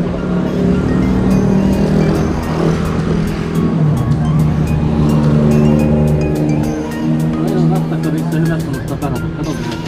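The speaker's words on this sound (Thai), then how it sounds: "ขับตุ๊กๆนะคะ" A Philippine tuk-tuk shakes along under way, its engine a loud, steady rattling drone with shifting pitch close by, while a voice talks over the motor.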